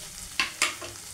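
Spices for scrambled paneer fry in a pan under a gentle sizzle, broken by two quick, close stirring scrapes.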